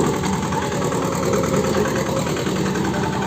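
A farm tractor's engine runs steadily and loudly nearby, giving a constant low rumbling drone with a faint vibration that does not change.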